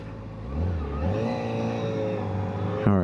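A new 2025 Kawasaki ZX4RR motorcycle engine revs up and down at close range, rising and falling in pitch over a steady idle, then a sharp blip at the end, no speech.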